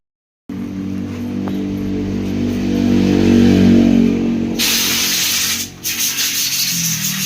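A Yamaha Aerox V2 scooter engine starts after a moment of silence and holds a loud, steady, raspy idle that rises as it is revved, then drops off briefly before picking back up, all close by.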